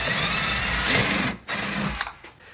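A power drill drilling holes in aluminium whirs steadily at high speed, stops abruptly, then spins again briefly before winding down; close and fairly loud.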